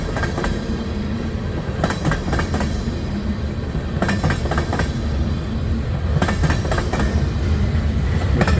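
A CSX freight train rolls past at Resaca, Georgia, giving a continuous loud rumble with rhythmic clickety-clack of wheels over rail joints and faint squeals, steady throughout.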